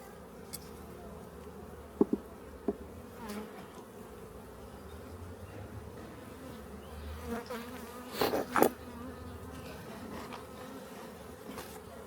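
Honey bees buzzing around beehives during an early-spring hive inspection, a continuous close swarm drone with a few louder passes and faint handling knocks.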